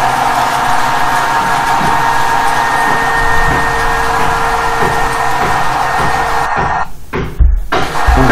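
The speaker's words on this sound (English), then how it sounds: "You can run two generators very well using single electric motor," A single electric motor drives two generators, rated 20 kW and 10 kW, with a loud, steady mechanical whine and hum. It runs alone at an even pitch, with a few clunks and rattles near the end.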